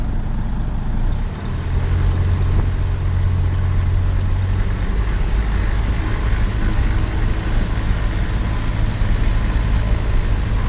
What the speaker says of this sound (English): We'll let the engine warm up a bit more, so I'll just bring the RPM up a bit.